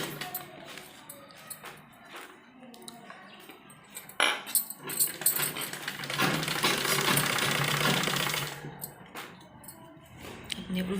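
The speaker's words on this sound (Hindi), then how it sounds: "यहाँ किनारे किनारे पर सिलाई लगाएंगे इस तरीके से" Sewing machine stitching along the edge of trouser piping, a strip folded over; a steady mechanical whirr builds through the middle run, with short bursts before and after and a little handling noise around it.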